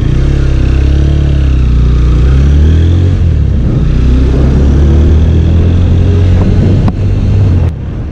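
A TVS Apache 160 4V BS6 motorcycle being ridden to the showroom for its fourth service, its engine a steady loud mid-pitched drone with wind rush throughout and a slight drop near the end, no talk.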